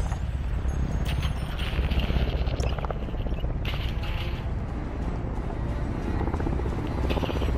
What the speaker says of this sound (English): Be advised, enemy attack chopper incoming.